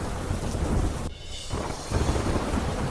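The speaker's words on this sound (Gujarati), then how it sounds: "ધોધમાર વરસાદ ખાબકતા 2 કાંઠે થઈ તાપી નદી" Heavy monsoon downpour with rolling thunder over the swollen Tapi river in Gujarat, a dense continuous roar of rain with a brief dip before the low rumble swells back, loud and close with no voices.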